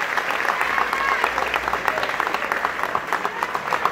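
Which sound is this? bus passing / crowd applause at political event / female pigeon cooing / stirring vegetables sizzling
crowd applause at political event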